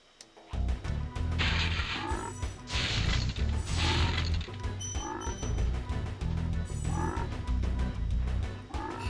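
Frog enemies croak repeatedly in Spyro the Dragon, a steady run of game noises and clanking mechanisms with no talk over them.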